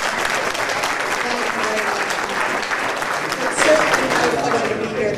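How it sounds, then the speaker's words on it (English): Audience at a hate crimes town hall meeting breaks into sustained applause, a full, even clatter of many hands with a brief swell near the end and voices faintly mixed in. "I just want a big round of applause"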